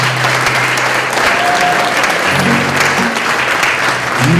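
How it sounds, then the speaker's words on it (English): Loud, steady audience applause fills the hall without a break at an International Day of Peace gathering in Bellingham, with a faint murmur of the crowd beneath the clapping. "I want another round of applause for her."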